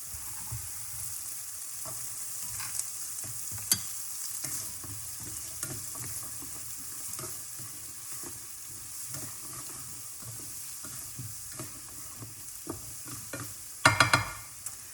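Chopped stuffing ingredients frying in a pan for a Thanksgiving dinner, a continuous low sizzle with frequent stirring scrapes and clicks, building to a brief louder burst of clattering near the end.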